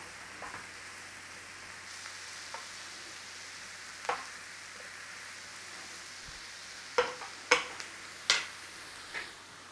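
Cabbage sizzles steadily in a frying pan, a soft continuous crackle, with a few sharper clicks and taps of utensils against the pan toward the end; no one talks.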